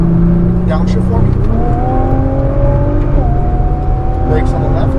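A Nissan GT-R accelerating hard on a race track, its engine note rising steadily through the gears with a shift partway through, loud and continuous under an instructor's spoken directions.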